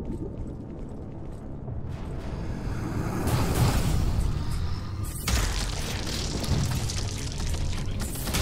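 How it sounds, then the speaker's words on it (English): A charged shotgun firing in the retro-style shooter Prodeus, heavy booming blasts with a rushing wind-up surge, two big bursts separated by a brief gap, loud and close with no talking. "Charging shotgun, that's pretty cool."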